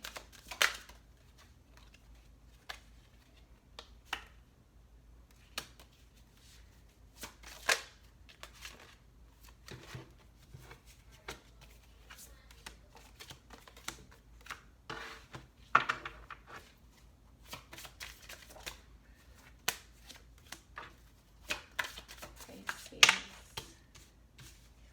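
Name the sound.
shuffling tarot cards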